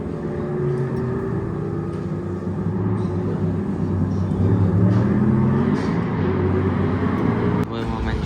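McLaren 720S GT3 race car at the Spa-Francorchamps circuit, a steady loud engine rumble with a shifting tone rising in the middle, and voices talking over it throughout.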